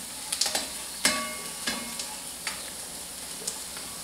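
Minced garlic and onions sizzle steadily in a pan while a utensil stirs them, with several sharp scraping clicks against the pan over a constant frying hiss.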